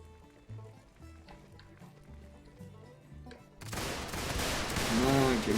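A rifle volley erupts in a Gettysburg battle game, a dense roar of gunfire that bursts in suddenly and swells loud after quieter stretches with low tones and a shouted voice.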